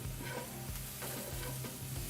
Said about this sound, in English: So we're gonna saute these down.